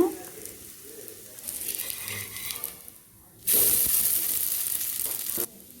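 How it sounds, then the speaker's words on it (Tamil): An adai dosa cooks in oil on a hot pan. A soft sizzle runs for about three seconds, then a louder, sharper hiss bursts in for roughly two seconds as more oil hits the pan, then cuts off abruptly. Some faint speech sits under it. "தோசை வேகிறதுக்கு தேவையான அளவு எண்ணெய் ஊற்றுங்க."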